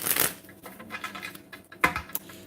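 Tarot cards being shuffled by hand, a series of crisp riffling and flicking bursts, close and fairly loud, with no voice over them.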